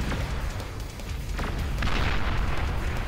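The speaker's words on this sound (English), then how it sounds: "the Tremor! The massive rapid-fire artillery tank. Just blasting one shot after another" Massive Tremor rapid-fire artillery tanks in the strategy game Beyond All Reason pound away with dense, loud booming blasts fired one after another, overlapping into a continuous barrage of explosions.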